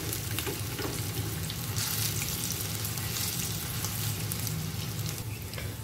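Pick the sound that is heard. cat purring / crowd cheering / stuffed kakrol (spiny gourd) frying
stuffed kakrol (spiny gourd) frying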